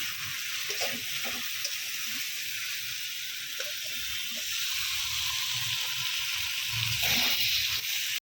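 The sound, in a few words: jackfruit being sautéed with salt in a pan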